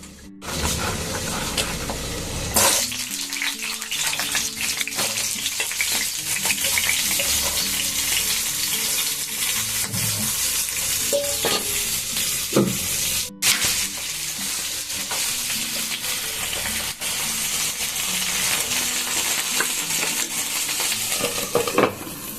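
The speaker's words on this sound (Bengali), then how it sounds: "তো এখন এগুলোকে আমি সব ভেজে নিই" Sliced potatoes and pointed gourd (potol) fry in a pan with a loud, steady sizzle, broken by occasional clinks and scrapes of a spatula stirring against the metal.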